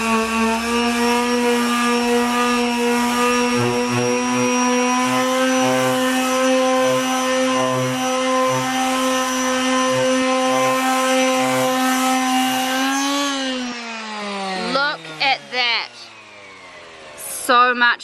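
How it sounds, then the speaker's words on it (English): A power sander working on a wooden table to smooth out a gap runs as a loud, steady motor whine for several seconds. It then winds down, followed by a few brief scraping and handling noises. "Look at the difference here when I start sanding it off."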